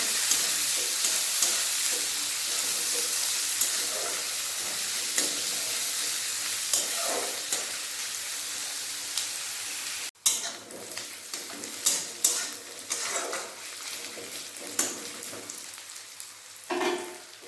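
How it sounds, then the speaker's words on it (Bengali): Chopped onions frying in oil in a pan for a pabda fish curry, a steady close sizzle with stirring scrapes, growing louder and choppier after a sharp break partway through. "পেঁয়াজ ভালোভাবে ভেজে নেব"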